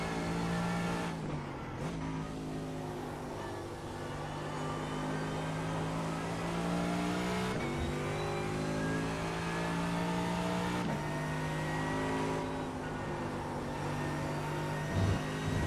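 A Mercedes AMG GT3 race car engine in the iRacing simulator at Watkins Glen drones loudly and steadily, with its pitch climbing and then dropping at each of several gear shifts.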